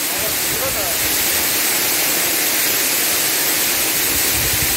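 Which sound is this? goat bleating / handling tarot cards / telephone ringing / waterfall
waterfall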